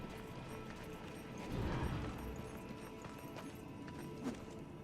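Horse hooves clip-clopping in the video game Darksiders 2, a steady muffled rhythm that swells briefly midway, set against a busy game soundscape with no talking.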